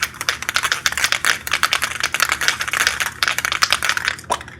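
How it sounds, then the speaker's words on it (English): A Plasti Dip spray can is shaken hard, its mixing ball rattling in quick, uneven bursts close up, with a brief pause before the last shakes. "You definitely want to shake the can up."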